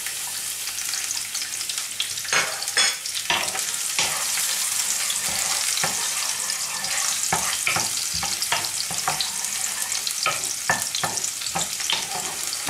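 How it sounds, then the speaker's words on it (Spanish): Cayenne pepper and garlic frying in oil in a pan, giving a steady bright sizzle with frequent stirring scrapes and clicks throughout, close and continuous with no talking. "Ahora, en este mismo aceite voy a poner la cayena"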